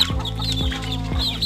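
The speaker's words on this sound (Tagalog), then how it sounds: "Ito nga pala mga kaibigan, itong hen natin." A native free-range hen clucks close by in short, regular low clucks, with softer chick-like peeps above.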